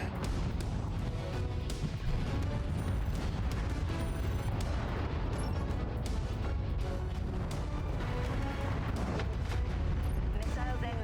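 A MechWarrior 5 battle, with continuous heavy booms and rumbling explosions as a mech goes critical and blows up, under steady weapon fire and intermittent voices.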